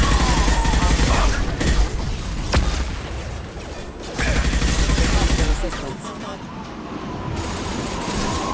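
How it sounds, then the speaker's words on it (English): A flashbang grenade goes off in a Mass Effect 2 firefight with a sharp bang and a thin, high ringing tone that hangs for over a second amid ongoing combat noise and voices. "Watch out, flashbang!"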